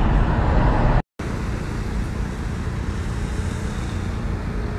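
Car interior during a drive through Moscow: steady broadband road and engine rumble with wind noise, briefly cut to silence near the start, then continuing evenly.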